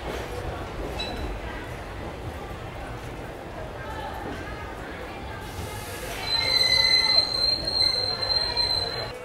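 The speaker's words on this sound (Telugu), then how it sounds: "ప్లాట్ఫామ్ 8కి మన రత్నాచల్ సూపర్ ఫాస్ట్ ఎక్స్ప్రెస్ చేరుకోవడం జరిగింది" Ratnachal Superfast Express pulling into platform 8 at a station: steady rumbling rolling-stock noise with a sustained high wheel squeal rising in the last few seconds, fairly loud, amid station ambience.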